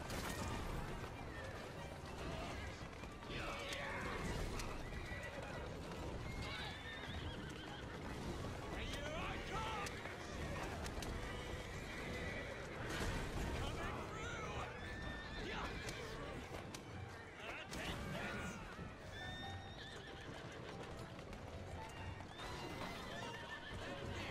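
Horse-drawn carriages gallop in Assassin's Creed Syndicate, with dense clip-clopping hooves, neighing horses and rattling wheels under a busy game mix, while voices talk over the chase.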